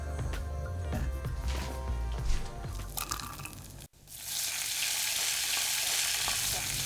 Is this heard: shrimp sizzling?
yes